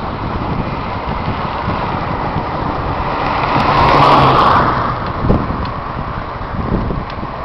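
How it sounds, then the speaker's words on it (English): Steady broadband wind roar buffets the microphone while bicycling on a flat route into a headwind, rising into a louder gust midway and then easing, with no speech. "there's a headwind right now"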